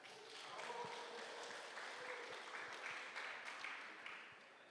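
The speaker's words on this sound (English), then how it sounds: "A round of applause for these guys." An audience at a fellowship reunion conference in Miami claps steadily, a faint, even patter of many hands that holds for several seconds and then eases slightly toward the end.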